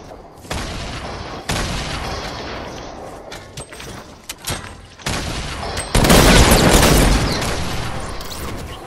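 Gunfire from a Fortnite match comes in loud, dense bursts of rapid shots with booming thuds between them, growing heavier and more continuous toward the end, close and unaccompanied by talk.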